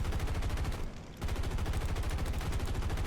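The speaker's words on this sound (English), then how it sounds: "start the MG fire" Aircraft machine gun fire in War Thunder after a landing, a dense, continuous rapid burst that cuts out briefly near one second, then resumes loud and steady to the end.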